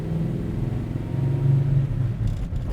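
A 1970 Chevrolet Chevelle with a 502 engine idles with a deep, steady, throbbing rumble close by, swelling slightly midway, with no voices.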